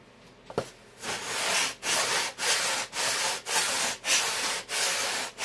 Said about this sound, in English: I think I need to sand on this one just a little bit more